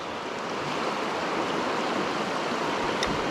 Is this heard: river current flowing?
yes